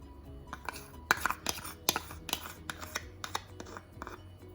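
Hands mixing ground pork with salt, five-spice and melted butter for xiao long bao filling: soft squelching and irregular clicks and taps of a bowl, close up, with no talk.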